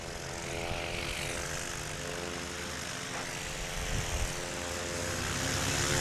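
A blue and white Cessna 170 light aircraft drones steadily with its propeller engine during a STOL competition in Brainerd, Minnesota, a loud continuous buzzing hum with clear engine harmonics, close by and rising slightly at the end, with no talk over it.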